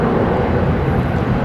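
An airliner departing Brisbane Airport at night roars steadily as a broad, close rumble of jet engine noise, loud and continuous with no voices.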